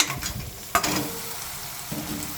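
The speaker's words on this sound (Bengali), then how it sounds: "এবার আমি মুরগির চামড়াটাকে আমি দিয়ে দেবো কড়াইয়ের মধ্যে" Chicken skin dropped into a wok of spiced oil, setting off a sharp hiss that settles into a steady, close sizzle with light stirring scrapes.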